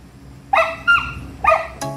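Small dog Melon gives a few yipping barks, a short high-pitched burst followed by two more yips and a sharp final bark, close and clear with no talk.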